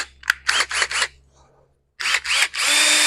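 A power drill spins a valve stem to peel adhesive off a Mack Granite truck door, whirring in several short bursts, pausing briefly, then running steadily; the tool sounds close and fairly loud.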